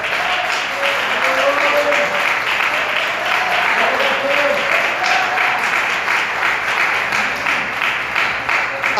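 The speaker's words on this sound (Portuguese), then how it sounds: "Vamos aplaudir a Deus." A church congregation applauds during a Portuguese-language sermon, producing steady, loud clapping throughout while a voice speaks over it.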